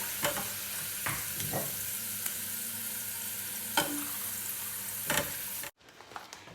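Garlic stir-frying in oil in a pan, a steady close sizzle broken by occasional scrapes of the utensil, then cutting off abruptly to near silence as the heat goes off.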